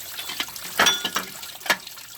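Old green coolant from a 2007 Honda Accord V6 drains into a bucket, making faint, uneven splashes and dribbles with a couple of louder plops.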